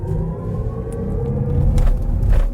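BMW iX M60 electric SUV accelerating gently with its synthetic drive sound by Hans Zimmer, a low swelling rumble with faint tonal layers, growing slightly louder inside the cabin.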